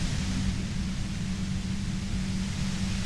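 Static from a pale emitter in Disco Elysium, a steady hissing wash of broadband noise with a low droning hum underneath, constant and unbroken throughout, with no talk.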